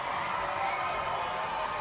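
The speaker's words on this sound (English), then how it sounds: "the crowd have got something to say about this" Stadium crowd noise at a women's rugby match between New Zealand and the USA, a steady broad roar of many voices reacting, fairly loud and continuous throughout.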